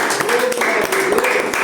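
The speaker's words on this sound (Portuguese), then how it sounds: "E as palmas para o Senhor" A church congregation claps together in praise during a teaching service. The sharp claps come in a rapid, fairly regular rhythm and sound loud and close for a short burst, with some voices mixed in.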